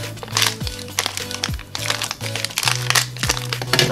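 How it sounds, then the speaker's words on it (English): Blue sticky plastic wrap around a Beyblade Burst Super Z part being crinkled and handled, a busy run of close, sharp crackles and rustles with no talk. "Oh, this one's all wrapped in blue plastic."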